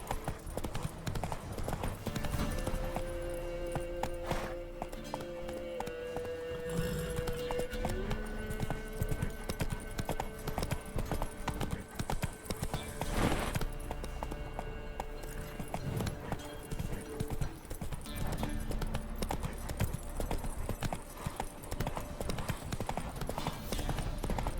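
Roach, a horse in the video game The Witcher 3, gallops with steady rhythmic clip-clop hoofbeats throughout, loud and close, with a brief whinny and game ambience underneath.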